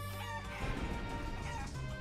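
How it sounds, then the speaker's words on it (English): A chicken in the video game Guacamelee clucks and crows in a steady, fairly loud stretch, heard alone over a dense game soundtrack. "That's right, little chicken."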